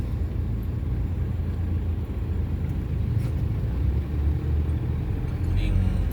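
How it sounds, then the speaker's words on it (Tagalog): A jeep rumbles past on the road with a steady low engine drone, loud and close, under outdoor background noise. "Yan guys, may jeep."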